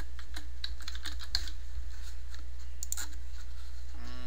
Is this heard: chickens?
no